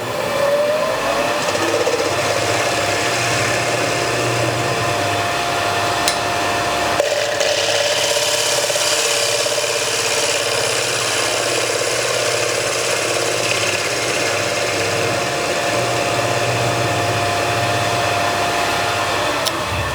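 Wood lathe spinning a large salad bowl while a bowl gouge makes finishing cuts, giving a steady loud whir with a scraping, hissing cut texture that shifts after a brief pause, no voices.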